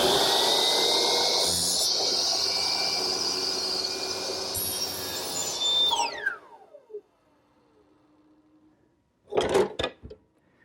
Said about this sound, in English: set it in the miter box, swing it over to 45 degrees, align it with my laser line,